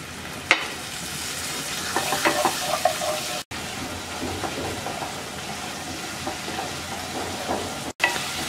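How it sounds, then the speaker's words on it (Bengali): Ground spice mixture with a little water being stirred and fried for a Bengali bean and potato chorchori, a steady soft sizzle with scraping spoon strokes throughout and two brief drops to near silence, no talking. "এবার অল্প একটু পানি দিয়ে মশলাটা কিছুক্ষণ কষিয়ে নেব।"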